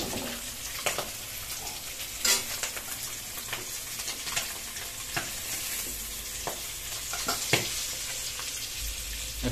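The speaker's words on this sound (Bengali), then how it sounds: "হ্যাঁ দেখতে পাচ্ছেন খুব সুন্দর ফ্রাই হচ্ছে।" Eggs and potatoes frying in a pan for a spicy egg and potato curry, a steady oily sizzle with occasional scraping stirs and clinks, no one speaking.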